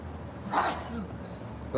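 A single short sneeze bursts out in a quiet room, one sharp mid-loud exhalation against low steady background hum, with no talking around it.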